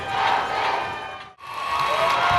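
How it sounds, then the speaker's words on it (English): Basketball crowd of Wildcats fans on their feet cheering in a gym, a loud sustained roar of shouts and whoops that dips briefly to near silence midway before swelling back up. "The Wildcat fans are on their feet cheering the Wildcats."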